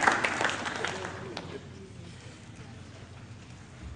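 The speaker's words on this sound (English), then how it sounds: "Let's keep clapping hands for her so that she picks the best step." Conference audience applause, a burst of clapping that is loudest at the start and fades quickly to a soft tail under room noise.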